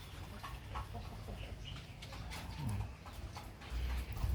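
Brahma hens in a backyard coop give soft, scattered clucks and low murmurs, fairly faint against steady rustling and ambient background noise.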